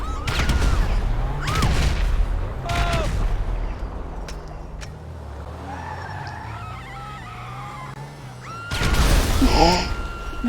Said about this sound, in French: Grenade, on va prendre des grenades basiques, on va les jeter.